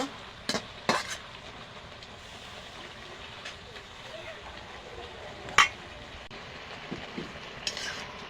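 Spinach curry with puti fish is stirred in a pan. Intermittent scrapes and clinks of a spoon against metal sound over a faint background simmer, with sporadic louder knocks.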